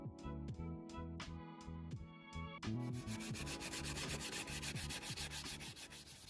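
A vintage wooden school desk is sanded by hand in rhythmic, rasping strokes, at first separate and spaced, then quickening into a dense, continuous scrubbing, close and clear with no talk.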